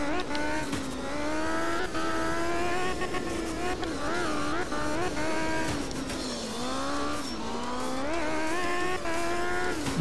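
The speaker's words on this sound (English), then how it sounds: "Little high rev engine." A high-revving rally car engine in the video game art of rally screams continuously on a dry Norway stage, its pitch climbing and dipping as it shifts through gears, loud and close throughout.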